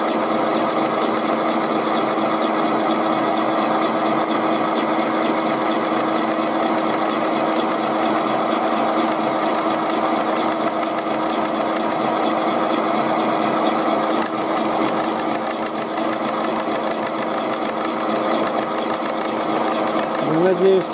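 A washing machine motor, repurposed for a homemade tool, hums and whines steadily at an even pitch, continuous and close, with a faint rattling vibration throughout.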